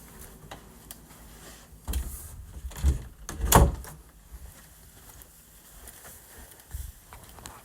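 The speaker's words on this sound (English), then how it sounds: "Let me shut this door for a second." A door swings shut indoors with one solid thud near the middle of the clip, followed by a couple of fainter knocks in an otherwise quiet room.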